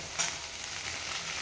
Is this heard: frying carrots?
yes